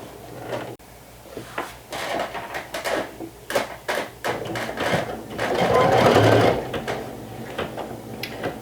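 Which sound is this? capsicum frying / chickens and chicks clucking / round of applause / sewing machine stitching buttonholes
sewing machine stitching buttonholes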